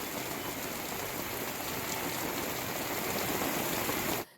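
Heavy unseasonal downpour in Pune, a dense steady roar of rain without a break, loud and close, cutting off abruptly at the end.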